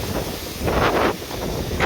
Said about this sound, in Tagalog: malakas na talaga yung hangin o, oh, tignan nyo